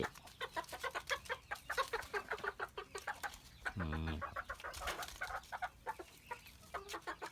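A bantam rooster crows once in a short rising call amid steady clucking and chatter from nearby chickens, close and clear.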